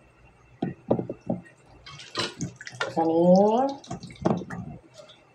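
Running water splashes and drips as ingredients for bangus tinola are washed by hand, in uneven bursts mixed with a person talking nearby.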